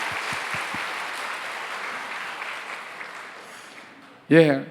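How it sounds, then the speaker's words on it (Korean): A church congregation claps steadily indoors, the applause slowly tapering off before a voice starts speaking. "우리 병영교회 우리 박수로 환영해 주십시오"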